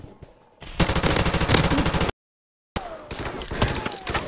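Rapid automatic gunfire in Modern Warfare Remastered, loud dense bursts that cut out abruptly to silence, then resume with scattered shots and faint talk underneath.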